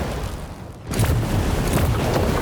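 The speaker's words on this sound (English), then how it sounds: "fire all of the missiles up like that" Missiles launch from a mech's left arm in War Robots Frontiers, a sudden booming burst after a quiet moment followed by a sustained rumbling barrage of explosive thuds, loud and close.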